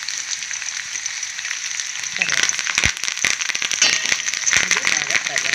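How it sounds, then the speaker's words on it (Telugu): Mustard seeds, urad dal, chana dal and cumin fry in hot oil with garlic and two chillies for a bitter gourd curry, giving a steady close sizzle that thickens into brisk crackling and popping halfway through. "ఇది బాగా ఫ్రై అవుతుంది. చూసారు కదా, ఫ్రై అవుతుంది కదా."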